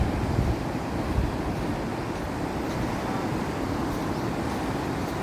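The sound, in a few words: strong sea waves on a beach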